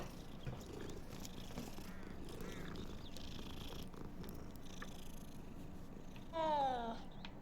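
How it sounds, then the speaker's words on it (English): A cat in the video game Hogwarts Legacy purrs steadily up close, a continuous low rumbling throughout, ending with a short meow-like call near the end over faint background ambience. "It's a cat!"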